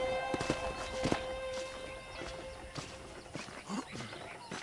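Horse hooves clip-clop at a walk on a ranch in the video game Red Dead Redemption, a steady uneven patter of fairly close steps running under game ambience and brief voices.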